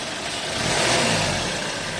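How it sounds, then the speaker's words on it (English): A Maruti Ritz petrol engine runs up close, swelling in a short rev and easing back down to a steady idle. "So you can hear the engine sound."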